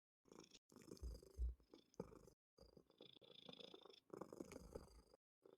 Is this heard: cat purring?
yes